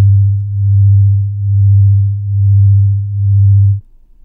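A low pure tone made of two summed sine waves of unequal amplitude wavers in gentle periodic swells, never fading fully, roughly five beats before it stops abruptly.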